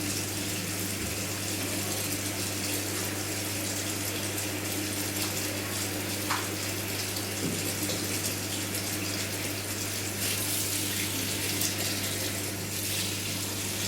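Household tap opened to full flow, with a steady broadband rush of water and a constant low hum underneath that runs for the whole stretch without pause.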